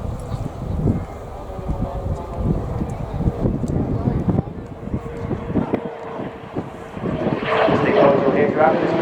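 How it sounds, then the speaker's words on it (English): An RAF Tucano T1 turboprop trainer with an uprated engine fitted by Shorts in Belfast flies a display at RIAT 2019, its steady engine drone growing louder toward the end under gusty wind noise on the microphone. "the uprated guaranteed turboprop engine fitted to the RAF Tucano by Shorts in Belfast"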